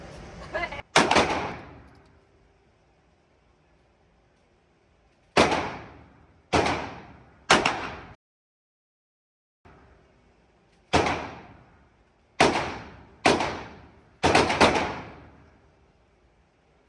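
Gunshots from a $4300 firearm ring out in sharp, loud reports: one early pair, then three spaced shots, a pause, and four more in quick succession, each with a short echoing tail.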